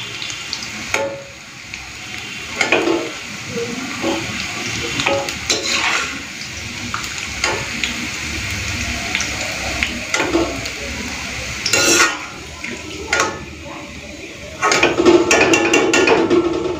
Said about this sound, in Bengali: তো বেরেস্তাটা ভেজে নিয়েছি